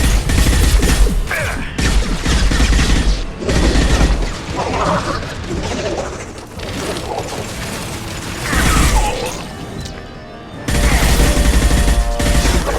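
Rapid gunfire from the video game Mass Effect 2, loud bursts of mechanical, clattering shots in several runs separated by brief pauses, with no talking over it.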